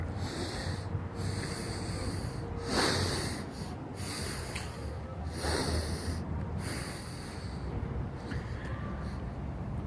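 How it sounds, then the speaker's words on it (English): Slow meditative breathing through the nose, long airy inhales and exhales rising and falling in a loose rhythm, close and soft over a steady low background hum. "So now do a couple and listen to the sound of that breath."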